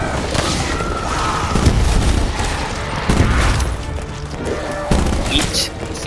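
Black Ops 4 gunfire in the Hellcatraz Gauntlet mode, a steady barrage of shots mixed with booms and thuds, loud and sustained, with a voice talking over it.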